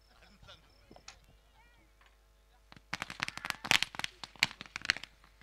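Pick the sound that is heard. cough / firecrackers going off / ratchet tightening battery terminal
firecrackers going off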